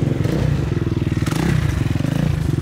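A motorcycle engine revs hard as the rider sets up a wheelie, giving a loud, close, throbbing rumble with rapid pulsing and some rattling clatter, and nobody speaks.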